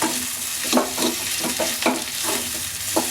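A spoon stirs and mashes potato masala filling for dosa in a pan, giving a string of soft scraping knocks about twice a second over a gentle sizzle.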